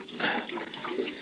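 Water splashes and trickles from a water bag in an old Western radio drama, a short close gush that rises and falls over about a second.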